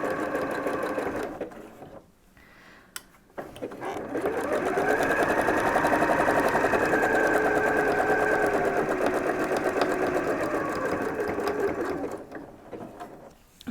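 A sewing machine stitches the shoulder seam of a homemade medical isolation gown, running in a steady, loud whir for about eight seconds after a few short starts and pauses.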